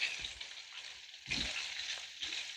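Fish frying in hot oil, stirred and shifted with a wooden spoon, gives a steady close sizzle with a few soft scraping bursts as the pieces move.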